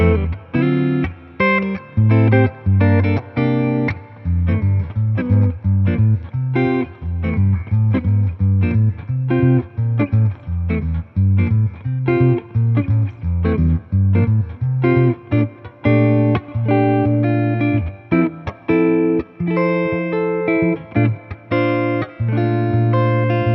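An electric guitar plays continuously through a Sonicake reverb effects pedal, a big, warm reverb trailing every note and chord, the sustained tones blending into a dense, ringing wash.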